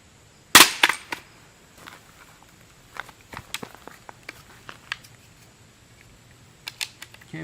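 A CSA vz. 58 rifle magazine strikes the ground in a drop test, one loud sharp impact near the start, then scattered lighter clicks and handling knocks at close range.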